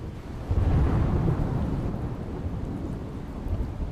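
Heavy monsoon downpour flooding city streets in Gujarat, a dense continuous roar of rain with low rumbling swells, loud and steady throughout with no voices.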